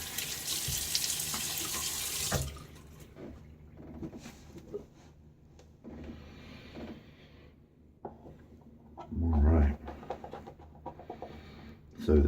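Tap water runs steadily into a sink for a couple of seconds during a wet shave, then stops, followed by quieter splashing and dabbing of water on the face with brief louder splashes near the end.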